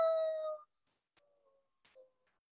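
A storyteller's voice imitates a wolf howl, one drawn-out tonal cry that fades after about half a second, followed by near silence with a few faint small sounds.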